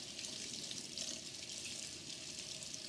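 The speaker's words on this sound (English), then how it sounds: "We're going to run that under hot water to get that solution off of it." Hot water runs from a tap over silver flatware being rinsed clean of a tarnish-removing solution, a steady soft splashing hiss, faint and even, with no talking.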